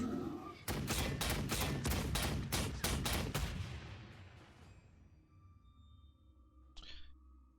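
A rapid fusillade of gunfire from the Warhammer 40000 Sanctus Reach strategy game, with dense repeated shots for several seconds that thin out into a fading rumble, then a brief sharp burst near the end.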